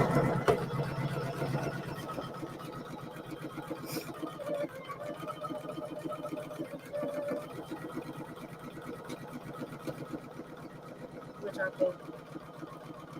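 A Poolin EOC06 single-needle embroidery machine stitches fabric with a steady rapid mechanical chatter running throughout, while a person talks over it.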